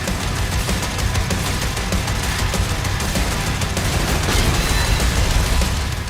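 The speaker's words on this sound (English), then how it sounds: "Doom has and always will be all about the guns" Weapons firing in the video game DOOM: The Dark Ages, a dense, loud, continuous barrage of rapid gunshots and booms with no pauses across the whole stretch.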